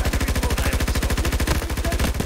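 Rapid automatic gunfire in the shooter game Battlefield 2042, a loud, close, continuous burst of evenly spaced shots with no pauses and no talk.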